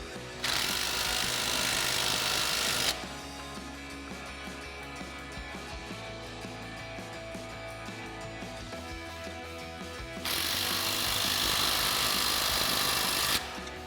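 An impact wrench with a 17mm socket tightens suspension bolts on a Jeep Wrangler JK during a lift install, two loud sustained rattling bursts separated by a long quieter stretch of mechanical clicking and ratcheting, with no speech.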